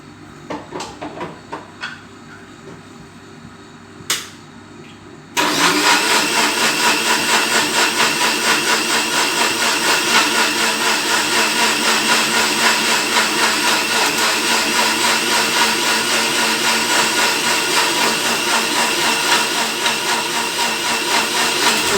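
A kitchen mixer grinder starts after a few quiet knocks and clicks, then runs as a loud, steady motor whine and rattle until the end.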